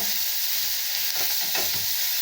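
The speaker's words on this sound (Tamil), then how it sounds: "சிரவி வச்சுருக்க மாங்காவை போட்டுடலாங்க. போட்டுட்டு நல்லா இப்படி வதக்குங்க" Grated raw mango sautéing in a pan for a sweet-and-sour pachadi, a steady close sizzle with a few soft stirring scrapes, no talking.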